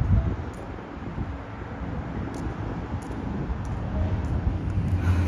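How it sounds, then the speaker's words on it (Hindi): Light wind blowing outdoors on an afternoon, a continuous low rumbling buffet against the microphone with faint rustling, steady and unbroken throughout. "थोड़ी सी हवा चल रही है"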